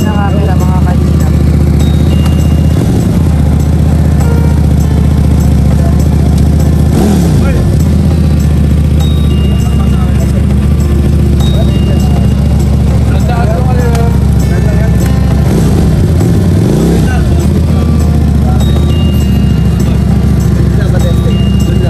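A new motorcycle's engine runs loud and steady throughout with a deep, constant drone, while people talk over it.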